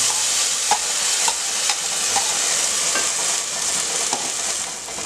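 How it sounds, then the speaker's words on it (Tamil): Frying and stirring in a pan as ground paste goes into sautéed onions for a tomato kulambu, a steady close sizzle with soft scraping ticks from the spoon throughout. "இப்போ வெங்காயம் நல்லா வதங்கிடுச்சு அரைச்சி வச்சுருக்கிறது இதில் ஊற்றிக்கணும்"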